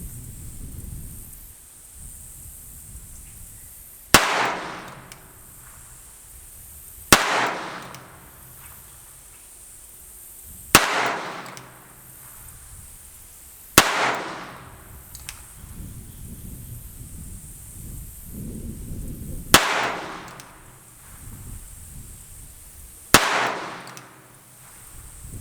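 A Colt King Cobra .22 snubnose revolver fired at a shooting range: six sharp, loud cracks at uneven intervals of a few seconds, each trailing off in a short echoing decay, with no talking.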